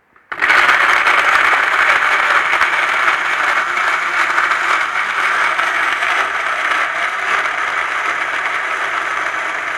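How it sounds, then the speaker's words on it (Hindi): A kitchen blender whirs at full speed, blending black plums (jamun) with water into a loud, steady, close-up roar that starts abruptly and holds for several seconds. "और इसको करूंगी मैं ब्लेंड।"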